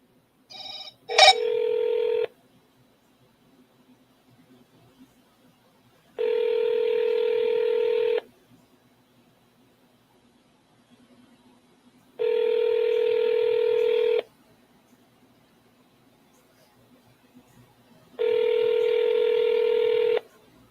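A phone call being redialed: a quick burst of dialing tones, then three long, evenly spaced ringback tones with quiet gaps between them.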